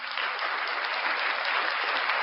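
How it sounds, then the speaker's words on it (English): A round of applause from a studio crowd during a breakfast show, steady dense clapping held at an even level for about two seconds, no voices over it. "Round of applause for the gorgeous"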